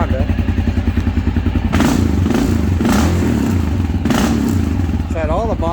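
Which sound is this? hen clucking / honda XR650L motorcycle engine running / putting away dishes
honda XR650L motorcycle engine running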